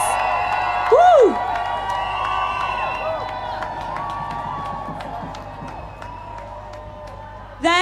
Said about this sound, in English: Give a cheer for the occupiers at Goldsmiths.